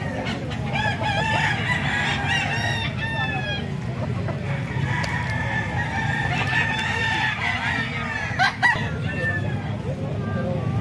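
Many chickens fill the air, with roosters crowing repeatedly over constant clucking from a flock of fighting cocks and stags. Voices talk faintly in the background.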